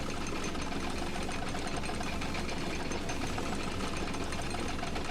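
The Bucket Destroyer machine in The Stanley Parable running steadily, a constant mechanical whir and knocking rumble at a moderate level, unbroken throughout with no voices.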